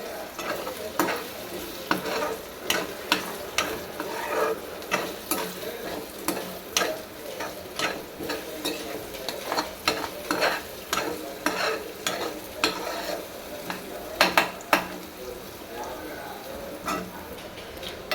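Beaten egg mixture frying in oil for an egg fry, a continuous sizzle broken by brisk, regular spatula taps and scrapes against the pan, with a voice talking over it at times.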